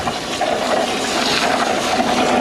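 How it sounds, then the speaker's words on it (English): Pressurised water sprays and churns into a bucket of concrete mix during patio line-pumping work, producing a loud, continuous rushing and gurgling close by with no voices. "So I'll just do a little bit of agitation here with water pressure."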